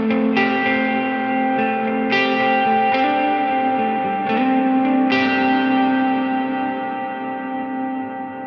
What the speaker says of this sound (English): Let's listen to the sound difference with this extreme reverb.